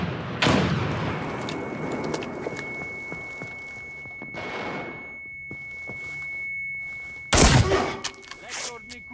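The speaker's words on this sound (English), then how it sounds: "Get cover! Grenade!" A grenade explodes in the America's Army: Proving Grounds video game. Sharp gunshots open the passage, a rushing burst follows in the middle, and a loud close blast comes near the end, with faint game noise between.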